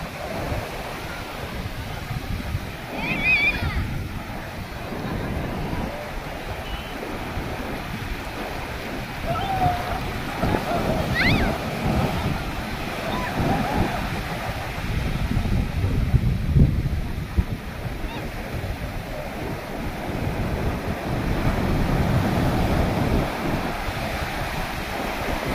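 Sea waves washing onto an island beach under gusty wind, a continuous broad surf roar with rising and falling swells and microphone wind buffeting, faint voices in the background.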